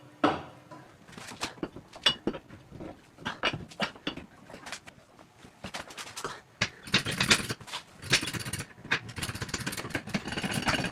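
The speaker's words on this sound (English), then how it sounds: "we gotta break it loose with the 22mm socket" A 22mm socket wrench breaks loose a brake caliper bolt on a 2023 Camaro LT1 during a front brake job, giving close, irregular metallic clicks and clanks that thicken into rapid ratcheting bursts toward the end.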